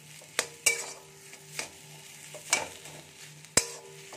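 Potato filling for vegetarian aloo paratha being stirred in a pan, with a steady low sizzle and several sharp scrapes and clinks of a spatula against the pan at irregular intervals, close by and without talk.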